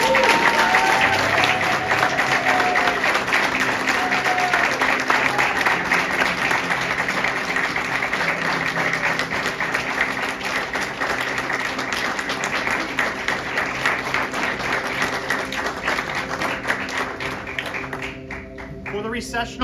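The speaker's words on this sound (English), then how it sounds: "Let's give them a warm round of applause." Sustained warm applause from a large crowd for the November 2021 graduating class of Universal Technical Institute at a graduation ceremony, steady dense clapping mixed with crowd noise and some voices, tapering slightly toward the end.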